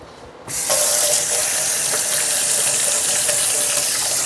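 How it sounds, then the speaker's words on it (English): Hands greasy from artichoke hearts being rinsed under a running kitchen tap while making a vegan pasta salad; a steady, fairly loud rush of water starts abruptly and flows on without pause. "Wash my hands over here because they're going to be greasy from the artichoke hearts here."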